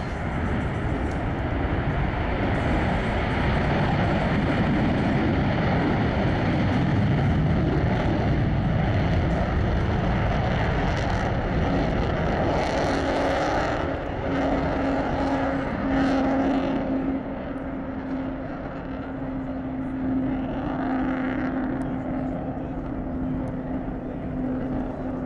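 A B-1 Lancer bomber's jet engines roar loudly at an air show, a sustained broad thunder that eases slightly toward the end while a faint tone persists.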